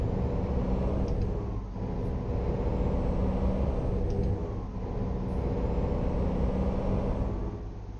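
Loud, steady diesel rumble of a truck engine heard from outside the cab in Euro Truck Simulator 2, droning continuously for the whole stretch with faint hiss-like bursts now and then.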